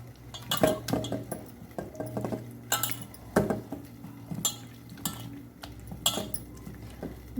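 Chicken leg pieces being stirred with ground masala in a metal bowl, a spoon scraping and clinking against the sides in irregular bursts over a low steady hum, close and moderately loud.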